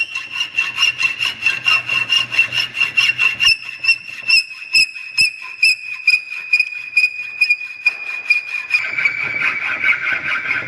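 A metal workpiece is hand-filed in a workshop, with steady back-and-forth rasping strokes in a regular rhythm, close and fairly loud, and a few sharper scrapes partway through, with no talking.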